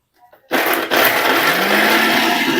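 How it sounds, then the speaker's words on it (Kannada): A kitchen mixer grinder blending chopped fruit for juice starts abruptly after a few small clicks, then roars loud and steady at close range with no talking over it. "ಮಿಕ್ಸರ್ ನಡೀತಾ ಇದೆ."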